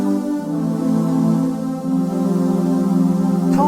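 Roland GAIA SH-01 synthesizer pad with a second tone layered on top, a sustained harmonically rich chord that swells and shifts steadily over several seconds, played alone with no talking.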